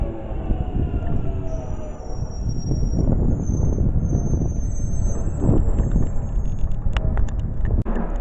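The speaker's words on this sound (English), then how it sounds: "that's departed London Underground Jubilee Line, so it's bound for Stratford" A London Underground Jubilee Line train pulls away from Dollis Hill station, a loud, continuous low rumble and rolling roar with high electrical whine and squeals over it, heard close from the platform.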